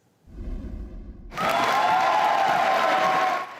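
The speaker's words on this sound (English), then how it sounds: "family and friends clapping and cheering" A graduation audience of family and friends at Grant Park High School bursts into loud, sustained applause and cheering, a dense crowd roar that follows a brief low murmur.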